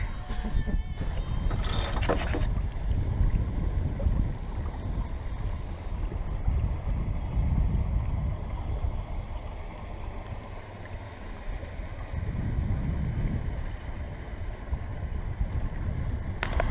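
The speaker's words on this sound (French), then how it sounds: "là on attaque une bonne risée, le bateau accélère, le skipper gonfle les voiles" A sailboat accelerates through water in a gust with a continuous rushing wash and heavy wind buffeting the microphone, steady and loud throughout.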